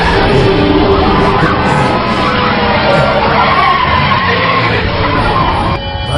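A car in a Tamil action film swerves sharply right with a loud, sustained screech of skidding tyres over a roaring engine, continuous for several seconds amid dense, chaotic noise.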